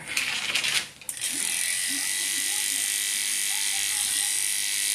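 Electric dog clippers buzz steadily while trimming a West Highland white terrier, a close, even whine broken by a brief stutter near the start before it settles into constant running.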